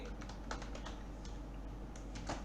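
Fingers tap out JavaScript code on a computer keyboard in quick, uneven bursts of soft clicks, close and fairly quiet against a steady background hum.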